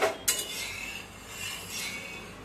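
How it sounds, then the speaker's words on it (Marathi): Oil being spread across a hot tava griddle while making low-oil tava bhaji: a sharp metallic clink at the start, then a soft, steady scraping and sizzling hiss. "सगळीकडे तेल पसरवून घ्यायचं तव्याला."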